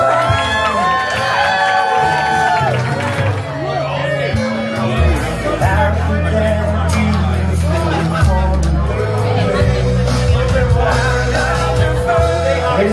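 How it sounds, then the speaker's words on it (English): Wedding reception crowd at the Marriott Hotel in Marathon Key cheering and clapping for the newlywed couple, loud and continuous, mixed with shouts, chatter and music throughout. "big round of applause for Alessa and Matthew Brodo"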